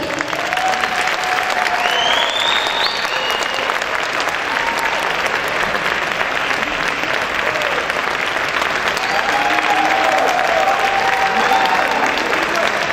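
A crowd claps loudly and continuously at the close of a stage performance, a long sustained roar of applause with scattered cheers and voices mixed in.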